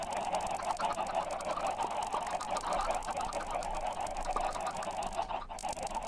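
A crowd of Minecraft chickens clucking together in a steady, faint, continuous cluster of overlapping clucks.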